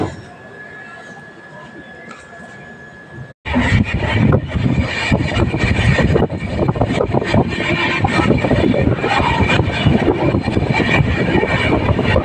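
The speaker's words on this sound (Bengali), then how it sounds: "সিগন্যাল দিয়েছে, ট্রেনটা এখন ছেড়ে দেবে।" The Howrah SF Express pulls out of the station. After a brief quiet spell, a loud, continuous rumble and clatter of the rolling train builds and holds close by.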